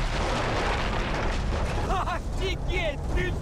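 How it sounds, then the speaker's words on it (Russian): A rumbling blast in the video game Far Cry 3, heard amid constant game noise with voices talking over it. "Офигеть! Ты видела этот взрыв?"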